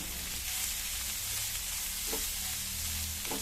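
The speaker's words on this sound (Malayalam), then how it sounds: "ഇതിലേക്ക് കുറച്ച് ഉപ്പും ചേർത്ത് വെച്ചിട്ട് നല്ലോണം ഒന്ന് വാട്ടിയെടുക്കാം" Tamarind with salt sautés in a pan, producing a close, continuous sizzle and frying hiss with two soft stirring scrapes, and no voices.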